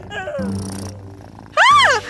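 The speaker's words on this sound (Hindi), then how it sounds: "यह बिल्ली है।" A cat gives a short, loud, rising-and-falling meow near the end, after quieter tonal vocal sounds, close and clear with no speech over it.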